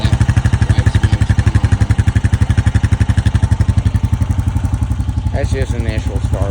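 A 2025 Honda Rancher 420 ATV engine runs just after a cold start at 15-26 F on 0W-30 oil, with a loud, close, fast steady chugging pulse and some clatter. Near the end there are brief sounds in the background.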